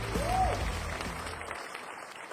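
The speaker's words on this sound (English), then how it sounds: "give a round of applause for all the players" Brief burst of audience applause at a Realme P4 smartphone launch event, clapping that swells and then fades within about two seconds, with a short electronic tone at its start.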